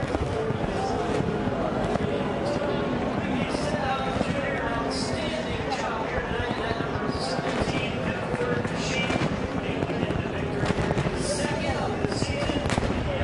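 A NASCAR Gen 6 race car does a burnout on the finish line at Daytona, a dense, continuous loud roar with crackling pops and crowd noise. Commentators talk over it throughout.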